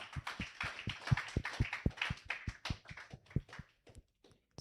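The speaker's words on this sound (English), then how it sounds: "Let's clap for Yangwa." A small classroom audience claps after a capstone presentation, with sharp, uneven hand claps in a quick burst that thins out and stops near the end.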